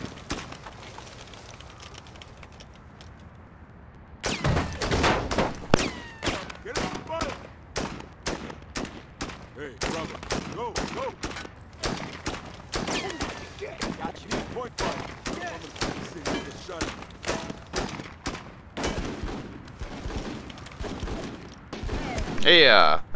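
Gunfire from the video game Full Spectrum Warrior comes after a quiet opening as a long, dense barrage of rapid bursts and single shots. It stays loud and sustained for nearly twenty seconds.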